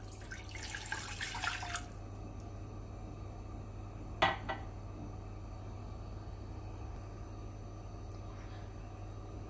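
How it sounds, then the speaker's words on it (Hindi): Water pours briefly into a pan at the start while making chai on a stove, followed later by a single metallic clink, all over a steady low hum. "वन कप पानी ऐड करेंगे।"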